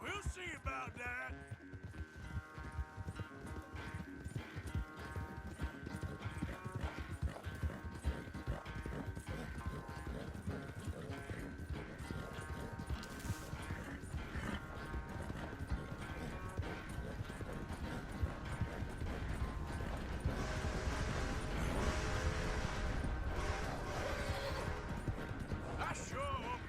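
A horse ridden in Red Dead Redemption 2 clip-clops in a steady, rapid hoof rhythm that runs throughout, close and constant, with talking over it.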